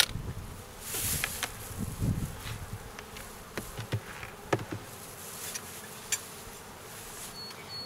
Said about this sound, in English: It's a good looking group of bees.